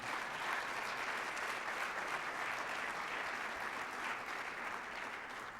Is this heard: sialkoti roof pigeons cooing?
no